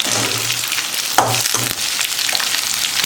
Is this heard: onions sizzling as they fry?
yes